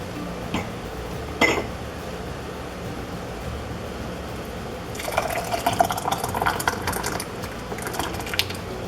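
Blueberry jam poured into jars on a homestead kitchen counter, a couple of clinks, then a steady thick pouring and gurgling in the second half, close and moderately loud.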